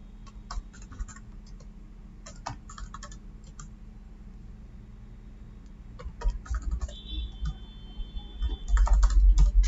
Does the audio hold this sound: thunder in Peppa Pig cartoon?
no